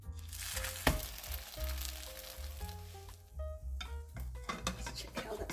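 Milo lava toast frying in vegetable oil in a wok over medium heat, with steady sizzling crackle and occasional sharp pops and clinks, close and fairly faint, with no talk.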